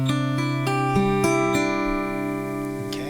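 Plucked guitar riff variation, a series of single notes struck at a steady pace with ringing sustain, played alone and clearly up close.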